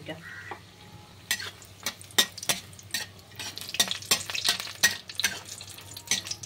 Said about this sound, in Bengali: কড়া তেল গরম হয়ে গেছে, এক মুঠো বড়ি ভেজে নিচ্ছি, মুসুর ডালের বড়ি